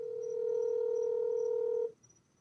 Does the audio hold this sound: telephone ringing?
yes